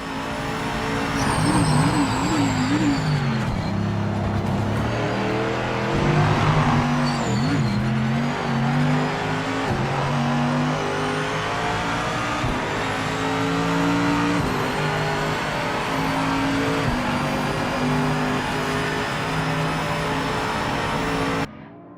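Mercedes GT3 race car engine in the Project Motor Racing video game, loud and steady, with revs rising and falling through gear changes and a constant high-pitched whine throughout.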